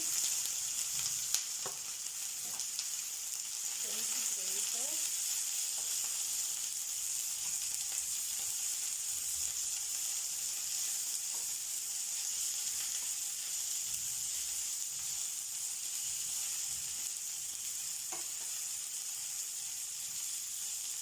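Chunky onions frying in a pan of olive and vegetable oil for peri peri chicken livers, a steady close sizzle with a few faint clinks and no voices.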